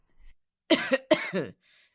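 Two quick, harsh coughs in close succession, loud and near, with brief quiet before and after.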